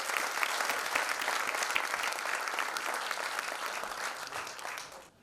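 A loud, dense round of audience applause at a talk by a life coach and speaker fills the room steadily and evenly, then cuts off abruptly at the end.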